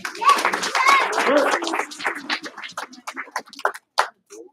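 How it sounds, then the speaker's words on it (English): Classroom children clapping on cue: a single clap, then a pair of quick claps, sharp broadband hits standing out after a stretch of kids' voices and chatter. "Give her 1 clap. Give her 2 claps."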